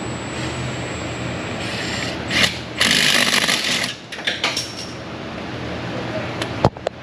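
Engine mount bolts on a Cadillac Escalade ESV 6.2 are tightened with a ratchet, giving bursts of quick clicking and metallic rattling separated by short pauses, close and moderately loud.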